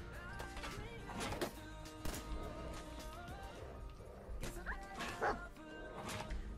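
Dog barking in the video game Fallout 4, several sharp barks and yips scattered across the stretch over game sounds and background music, with an occasional whimper.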